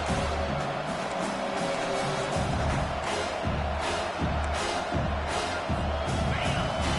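A college football stadium crowd roars continuously, a dense, loud wash of cheering and noise with swelling surges, heard alone without talk.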